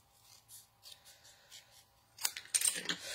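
Scissors snip through metallic paper in a few quick close cuts, with a crisp crinkling rasp that grows louder toward the end after quieter rustling handling.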